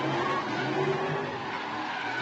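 Pro Light drift cars at a drift competition in Emmett, Idaho, skid loudly across the banked turn, a dense continuous roar of tire scrub and engine noise filling the whole stretch without any talking.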